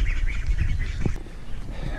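Spring peeper frogs calling outdoors at dusk, a steady chorus of high, repeated peeps carrying from a short distance, mixed with low rumbling noise and a brief thump partway through.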